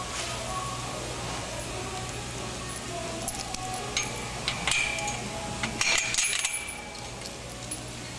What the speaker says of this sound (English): I'm picking up screws.